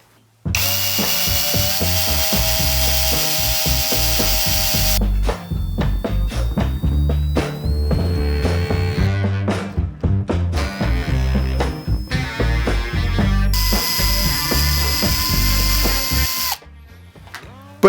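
A Revolt cordless drill with a 1 mm bit runs in repeated bursts, its high motor whine starting and stopping with ratcheting clicks and brief pauses, close and loud, with no talking.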